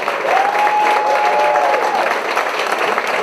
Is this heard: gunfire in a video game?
no